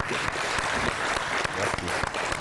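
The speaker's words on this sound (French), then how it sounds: "Mesdames et messieurs, que je vous demande d'applaudir, vous du public." A studio audience on a French-language public talk show claps steadily and densely for a couple of seconds, welcoming a member of parliament, with individual claps standing out against the wash.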